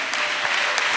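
A church congregation claps along in a brief, dense burst of applause, a few sharper claps standing out over a steady wash of hands. No one talks.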